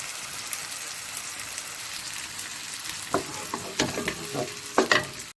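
Onions browning in masala for dhaba-style bhindi: a steady broadband frying hiss with intermittent stirring scrapes and clicks that grow sharper toward the end, no voices.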